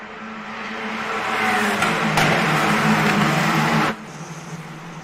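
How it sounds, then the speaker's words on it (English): Formula 4 race cars at the Red Bull Ring roar past in a steady, loud engine drone that swells in the middle and then drops off sharply near the end. "just ahead of Jade Jacquet in a P8, so these are the two girls racing each other also in Formula 1 Academy."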